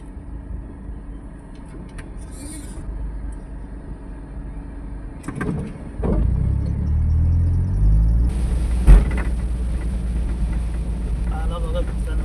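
A car travels along a road and reverses out to take another lane, its engine rumble steady and fairly close, with a deeper surge partway through and a short knock near the end.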